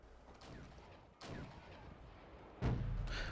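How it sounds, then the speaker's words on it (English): Artillery guns firing in the real-time strategy video game Wargame Red Dragon, a few muffled booms spread across a noisy battlefield, the last one loud and close. "I seem to be firing with my artillery"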